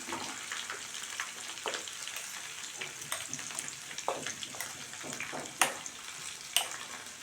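Ground masala paste being fried with softened onion and garlic for vatha kulambu, a steady close sizzle with scattered sharper crackles and a couple of louder pops near the end, no voices.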